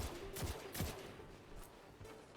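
Faint, distant bursts of rapid gunfire from the Jade Rabbit in Destiny 2: a few quick shots in uneven clusters over low background noise.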